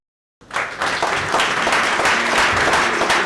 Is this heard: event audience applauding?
yes